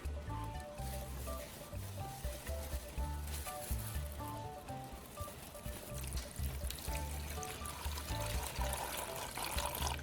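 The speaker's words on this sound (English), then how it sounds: "I'm carefully draining it out, getting rid of all that gunk." Murky desulfation solution drains out of a lead-acid battery in a steady trickling pour. The liquid sound is continuous and close, with a soft gurgling texture and no voices over it.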